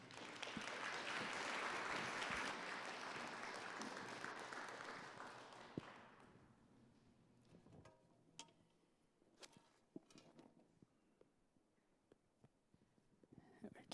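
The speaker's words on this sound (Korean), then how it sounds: "목사님 나오실 때 큰 박수로 환영해 주시기 바랍니다." A church congregation at a Korean Fellowship Church worship service gives the pastor loud, sustained applause for about six seconds, then the clapping thins out into scattered claps and quiet room noise.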